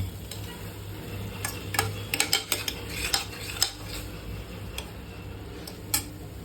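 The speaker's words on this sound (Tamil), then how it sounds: "பிரியாணி மசாலா அதை போட்டு ஒரு 2 பெரட்டு." Biryani masala being stirred into a pot, a spoon clinking and scraping against metal in scattered irregular taps over a steady low hum, close and fairly quiet.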